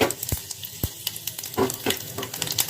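Spices for a dal tempering sizzle and crackle in oil in a pan, with sharp pops and a few scraping stirs, close and steady, no voices.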